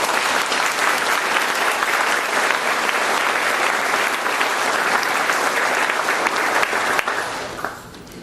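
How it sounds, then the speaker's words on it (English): Audience applause at a fall college faculty gathering, loud, dense clapping from many hands sustained for about seven seconds before quickly thinning and fading out. "I would appreciate if we could recognize them and give them a round of applause."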